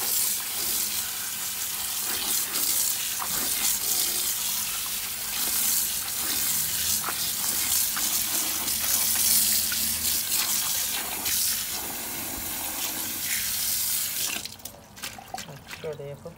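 Tap water runs steadily into a sink as mint leaves are washed under it, a loud continuous splashing rush that stops abruptly near the end, leaving scattered drips and handling noises.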